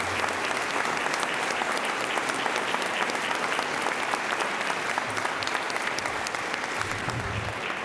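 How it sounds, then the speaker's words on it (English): A room full of Rotary meeting attendees claps steadily and warmly for a US senator, a dense, even wash of applause that holds throughout. "One more round of applause for the senator."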